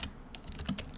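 Quick, close keystrokes on a computer keyboard as a git command is typed, a short run of crisp clicks with no voice.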